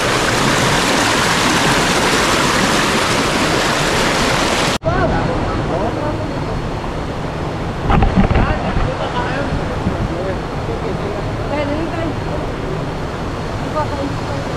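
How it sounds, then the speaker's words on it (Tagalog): Strong flowing river current during rain, a loud continuous rushing wash of water close to the microphone, with a brief jolt and some wind buffeting partway through. "Lakas pa ng agos."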